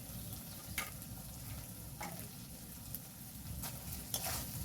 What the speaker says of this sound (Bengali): এটা খুব নাড়াচাড়া করে ভালো করে মশলাটাকে কষিয়ে নেব।